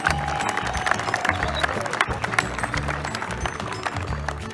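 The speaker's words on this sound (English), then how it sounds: "more round of applause," Audience applause in a gymnasium during a sports event, dense clapping from a crowd mixed with a steady beat of background music, continuous and moderately loud throughout.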